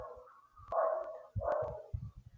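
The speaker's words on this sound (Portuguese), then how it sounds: "Tem um cachorro assistindo aula aqui, não sei se vocês estão ouvindo, né?" A dog in the room barks several times and whimpers between the barks, some distance from the microphone and fairly quiet. The sounds come in short, uneven bursts.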